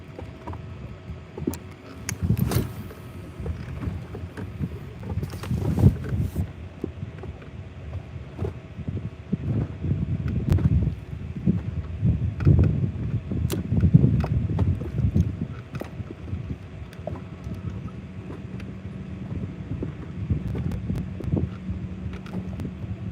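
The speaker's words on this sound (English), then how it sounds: "if this wind calms down just a little bit" Wind gusting on Lake Lanier during a bass fishing trip, a steady rumbling buffet against the microphone with some mechanical boat noises, no speech.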